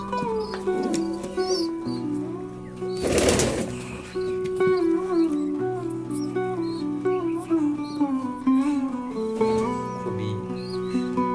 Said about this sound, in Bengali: আমরা এখানে দেখা পাচ্ছি বেশ কয়েকটি নতুন পায়রার বাচ্চা জন্ম নিয়েছে